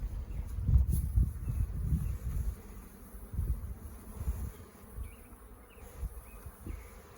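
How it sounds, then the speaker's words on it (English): A dense, low droning buzz of many honeybees close up inside an opened hive, rising and falling in loudness with no voices. "Plenty of bees in here."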